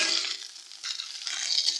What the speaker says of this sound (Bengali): আর একটুখানি আমি ফুলকপিটা ভেজে নেব